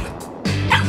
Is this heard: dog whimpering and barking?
yes